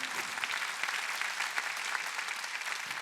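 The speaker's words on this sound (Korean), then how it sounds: "박수로 하나님께." At a Sunday healing service in a large arena hall, a church crowd breaks into sustained clapping, many hands striking in a dense, steady wash with scattered sharper claps rising above it.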